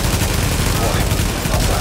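Dense, continuous gunfire rattles loudly for the whole stretch, rapid overlapping shots with no pause, muddy and compressed.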